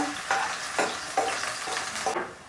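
Finely chopped onion frying in oil in a pan, a soft steady sizzle broken by a few scraping stirs of a spatula, close up and with no voices.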